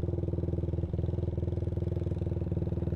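A Suzuki Satria injection motorcycle with a racing exhaust idles steadily close up, a fast, even, throbbing putter with a regular pulse throughout.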